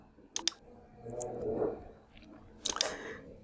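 Clicks from a keyboard Enter key and mouse while working in Microsoft Excel, two sharp taps near the start and another pair near the end, with soft rustling handling noise between, close and fairly quiet.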